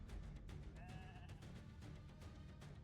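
A sheep bleats in Raid: Shadow Legends, one short wavering cry heard faintly over steady game background sound.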